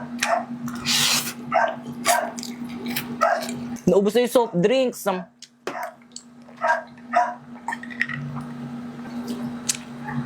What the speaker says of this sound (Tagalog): kaya maingay yung mga lalaking aso